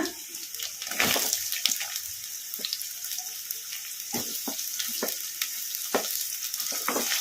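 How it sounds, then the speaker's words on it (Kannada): Onions and garlic fry in oil in a pan, a continuous close sizzle with repeated scraping and stirring clatters at irregular intervals, no one talking. "ಒಂದು ಎರಡು ನಿಮಿಷ ಎಣ್ಣೆಗೆ ಫ್ರೈ ಮಾಡ್ಕೊಂಬಿಡೋಣ ಈ ಥರ ಕಲಿಸ್ಕೊಂತ"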